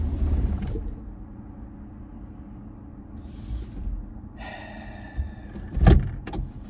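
A car engine, cold and just back together after major engine surgery, rumbles low and steady at close range during its first test drive, then falters with a few clunks and a sharper knock near the end as it stalls.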